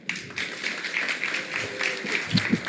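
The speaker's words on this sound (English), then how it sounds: "I'm gonna give him another clap." Audience applause following a talk at the Polkadot Decoded 2023 conference, a brief steady patter of many clapping hands filling a room, moderately loud with a few sharper claps near the end.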